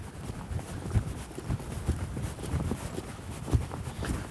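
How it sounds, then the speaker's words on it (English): A horse lopes around an arena, hooves thudding in a steady rolling three-beat rhythm, moderately close amid soft background rumble, with no voices. "just kind of ask her to lope off"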